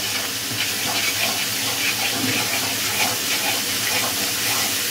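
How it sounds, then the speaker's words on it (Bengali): Water used to rinse the mixer being poured into dry spices for a Bengali fish curry, a steady close hissing rush with a faint sizzle underneath, continuous and fairly loud. "অল্প সামান্য একটু মিক্সি ধোয়া জলটা অল্প একটু দেবো"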